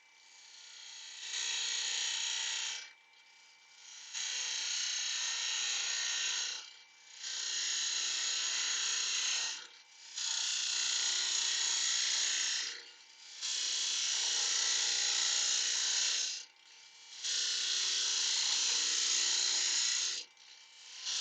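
Oak bowl being hollowed on a wood lathe: a harsh scraping rasp of the tool cutting timber comes in six regular passes of about three seconds each, separated by short quiet gaps, close and fairly loud.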